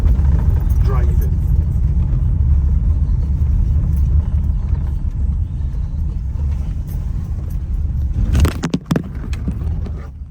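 Car driving on a rough road in the Brecon Beacons mountains produces a constant heavy low rumble with jolts and rattles, close and loud, and a brief sharp clatter near the end. Occupants talk over it.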